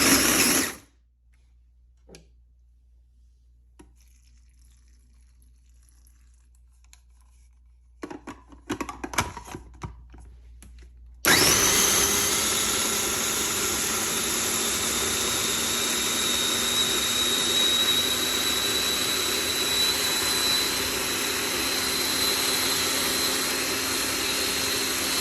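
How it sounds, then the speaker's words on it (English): A blender purees chili peppers with garlic and ginger for a homemade hot sauce. It starts with a brief burst, goes quiet with a few clunks, then kicks into a loud, steady motor whir that runs on alone to the end. "I put them in a blender or food processor, add some garlic and ginger,"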